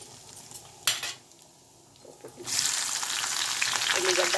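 Oil starts sizzling loudly as chillies drop into a hot pan for a dal tempering, a steady frying hiss after a few clinks and scrapes of utensils.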